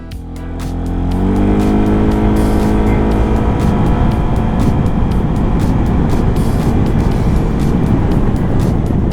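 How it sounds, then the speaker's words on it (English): A Yamaha Xmax 300 scooter accelerates hard in a 0-100 km/h test, its engine note climbing quickly and then holding as a loud, continuous, close roar. "I'll show on screen the 0-100 test we did for the Moto System video so you can see how quickly this bike accelerates"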